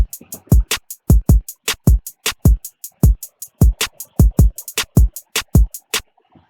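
Drum pattern for the third beat of a song, built in FL Studio: punchy booming 808 kicks with sharp hits and hi-hats in a steady, loud, syncopated groove, no voice.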